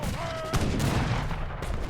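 Cannon fire rolls through an Age of Empires III: Definitive Edition team battle with a Dutch army. Dense, continuous gunfire-like booms and crackle fill the clip, with a sharper burst near the middle.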